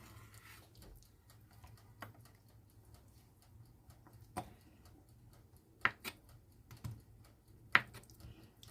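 Knife cutting tofu into cubes, a sparse series of light, close taps as the blade meets the board, irregularly spaced over a quiet background with no talking.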